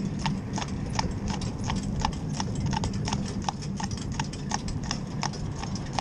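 A bay cob pulls a carriage through town, its hooves clip-clopping in a steady, even rhythm on the hard road close by, over a constant rumble of wheels and a faint neigh.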